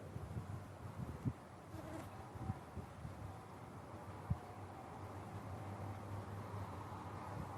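Faint, steady buzzing of honeybees during a December hive inspection hums beneath a noisy background, with occasional soft knocks and bumps nearby.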